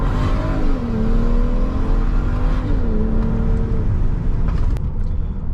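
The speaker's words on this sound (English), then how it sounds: "I have one of those crappy burble tunes on. I just throw it on to annoy people." A BMW E9X 335i with a burble exhaust tune revs loudly up close, its engine tone rising, dipping and rising again in stepped shifts before settling, with a few sharp pops near the end.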